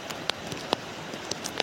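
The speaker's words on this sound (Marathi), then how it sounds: "पाणी किती वाहतोय बघा, थोडासा पाऊस आला तरी" Rain falls and water flows during a night fishing outing, making a steady wash of noise dotted with sharp drip-like taps, fairly faint and without talking.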